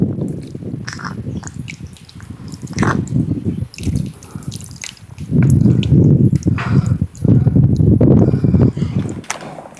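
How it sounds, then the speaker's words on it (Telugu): Soaked tamarind juice pours and splashes into a pot of simmering sambar, cooked village style, with loud, close, gurgling liquid sounds that swell and fade in uneven bursts. "మనం ముందుగా నానబెట్టుకున్న చింతపండు రసాన్ని కూడా వేసుకుందాం"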